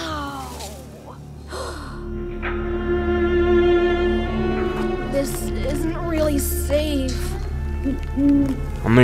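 An owl hoots in a horror video game, a drawn-out low hooting call sustained over several seconds while people react with gasps and nervous breathing close by.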